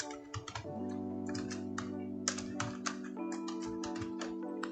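Rapid keystrokes on a computer keyboard typing a script name for AutoHotKey, irregular bursts of close clicks over a steady low hum.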